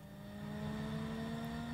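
A Douglas DC-3 piston engine starts up in Microsoft Flight Simulator, a steady low droning hum with a tonal whine that swells slightly louder over a couple of seconds, no talking.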